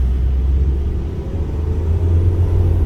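A car fitted with an aftermarket N-turbo fuel-saving device pulls away from a start. A steady, close, deep engine rumble holds throughout with little change in pitch, and no talking is heard.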